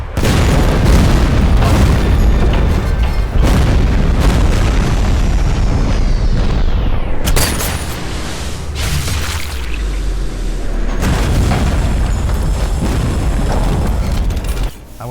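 Loud, heavy explosions boom and rumble almost continuously in Sniper Elite VR, with repeated blasts and debris bursting through the whole stretch, dipping briefly midway before another big detonation surges back.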